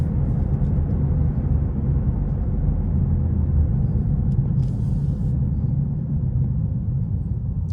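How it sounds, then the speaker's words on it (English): Cabin noise inside a BMW M3 G80 on the move, fitted with a modular single-pipe exhaust that sounds like the stock system: a steady, close low rumble of road and engine with no drone and no talking. "it's just normal cabin noise, nothing from the exhaust."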